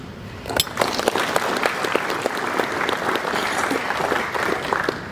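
An audience at a business breakfast gives sustained, dense applause for the oil companies Total and Exxon. The clapping swells quickly and holds loud and even with no talk over it.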